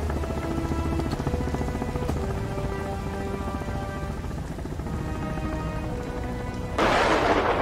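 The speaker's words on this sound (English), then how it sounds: "That was a terrible lightning strike" Steady rain pours in the survival game Sons of the Forest, with a low rumble of thunder beneath it and a sudden loud crack of lightning near the end, no voices over the storm.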